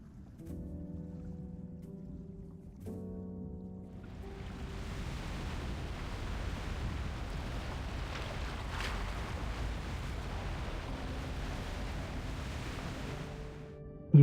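Strong sea waves in the video game Love and Deepspace, a sustained rushing surge of water and wind that rises out of a soft musical tone, holds for several seconds and then fades back into the music.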